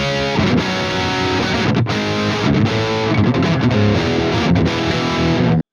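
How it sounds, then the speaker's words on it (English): Electric guitar through channel 2 of a Diezel amp, set for a pushed, crunchy JCM 800-style tone: thick distorted chords strummed continuously at close range, cutting off abruptly at the end. "Then I've got channel 2 of the diesel, which I set up for like maybe like a JCM 800 kind of"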